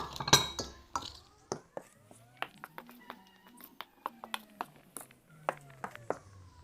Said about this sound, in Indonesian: Pertama yaitu campurkan tepung ketan dan tepung beras. Kemudian aduk rata.